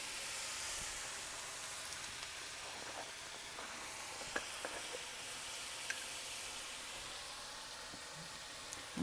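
Onions with salt, garlic, fresh ginger, coriander and cayenne pepper sweat in a pot, giving a soft, even sizzle and hiss with a few faint ticks and light stirring, no voices.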